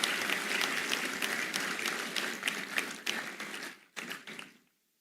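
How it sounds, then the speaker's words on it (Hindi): An audience at the AIIMS Jodhpur convocation ceremony applauds in a dense burst of clapping that holds steady, then thins into scattered claps and stops abruptly before the end. "एक बार जोरदार तालियों के साथ उनका स्वागत और अभिनंदन"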